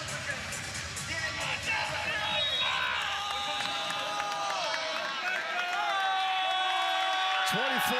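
Crowd noise at a Loyola Chicago vs Ball State men's college volleyball match at match point of the MIVA tournament championship. A loud, continuous roar of cheering and clapping fills the space throughout, with a commentator talking over it.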